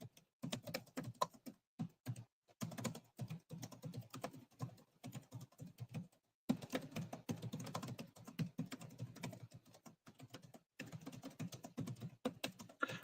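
Quiet, rapid typing on a computer keyboard comes in bursts of soft clicking, with brief pauses between runs and no voices.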